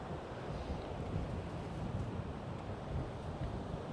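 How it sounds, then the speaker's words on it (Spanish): Ocean waves break along the shore on a rough-weather day, a continuous dense rushing wash with wind buffeting the microphone, steady and moderately loud. "Miren la ola como están rompiendo."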